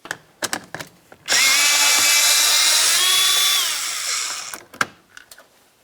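A power tool spins out the 10mm mounting bolt behind the side mirror of a 2009-2019 Ford Flex, one steady loud whir lasting about three seconds, its pitch dropping near the end, with light clicks and handling taps before and after.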